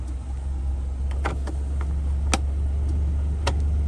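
A Suzuki Carry 1000 minibus engine idling smoothly, a steady low hum held close and even, with a few faint ticks and clicks scattered over it.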